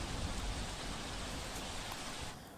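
Rain pours steadily onto the streets of Surat, a dense close hiss that stays even before thinning out at the very end.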